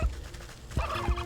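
A turkey gobbles in a video game, two sharp warbling calls a few tenths of a second apart, fairly close and clear over soft game ambience.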